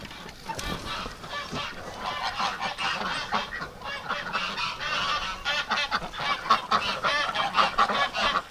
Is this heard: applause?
no